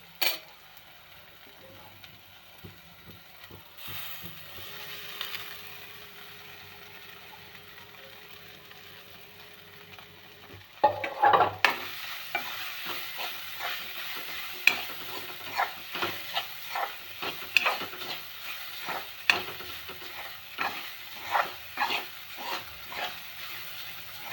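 Poha sizzles and fries in a pan of tempering while a spoon stirs in rhythmic scrapes, starting quiet and getting busier and louder partway through.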